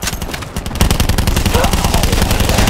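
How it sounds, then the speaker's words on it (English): Rapid, loud automatic gunfire in Call of Duty Black Ops 4 Zombies, a continuous close-range stream of shots that grows denser after a brief lull, with game voices in the mix. "Nice shooting, my French friend!"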